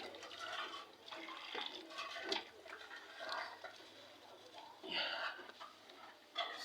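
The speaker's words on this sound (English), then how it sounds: "So I'm putting my hot water" Hot water is poured into a pot for cooking yam in a village kitchen, a gurgling, splashing liquid stream in uneven bursts, fairly close, with faint background sounds between pours.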